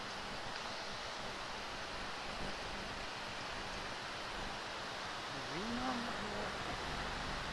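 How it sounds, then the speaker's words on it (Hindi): Rain falls steadily beside the swollen Alaknanda river in Chamoli, Uttarakhand, a faint, dense wash of noise blending with the rushing water and a brief low murmur partway through. "बरसात हो रही है रेगुलर, जबकि बरसात का सीजन चला गया है, काफी उफान पे है नदी।"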